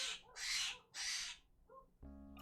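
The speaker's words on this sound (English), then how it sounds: "I made a friend with a little blue jay." A blue jay calls loudly outside a window, giving two long harsh screeching cries and then a shorter fainter note, followed by a brief burst of a more tonal, humming sound.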